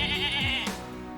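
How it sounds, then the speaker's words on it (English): A mountain goat lets out a single loud, wavering bleat lasting under a second, close by, followed by a brief quieter tail. "mountain goats,"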